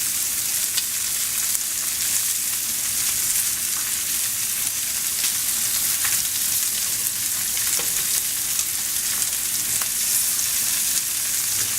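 Shallots hiss and sizzle in a hot skillet alongside lamb chops, a steady loud frying crackle with occasional sharper pops and no talking.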